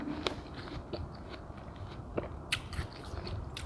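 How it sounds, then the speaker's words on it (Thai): Someone biting into and chewing cold, sweet watermelon up close, with a few crisp wet bites and soft squishy chewing between them, quiet and without talk. "มากินแตงโมเย็นๆหวานๆนะมีแรง"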